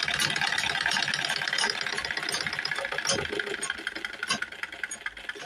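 Sewing machine running steadily up close, a continuous mechanical rattling whir with rhythmic knocking as the hand wheel turns and the fabric moves, loud throughout with no talking.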